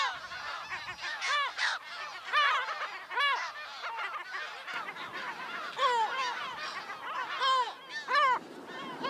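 A colony of Audouin's gulls on a small island off Menorca calls continuously, with many overlapping harsh, honking cries, some near and loud, others fainter, in an irregular chattering chorus.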